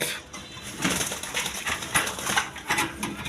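Huma pigeons cooing in a pigeon farm, soft repeated coos close by with occasional faint wing flutters and light knocks, no talk.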